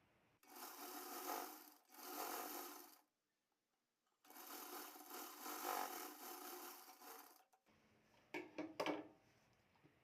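A sewing machine stitches the waist seam of a blouse in two long, steady runs with a short pause between them, followed by soft handling and rustling of the fabric.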